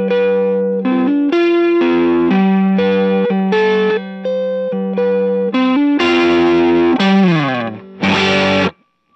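Electric guitar played through a Universal Audio UAFX Enigmatic Dumble-style overdrive pedal, loud and close, with a run of sustained distorted notes and chords and a final strummed chord cut off abruptly.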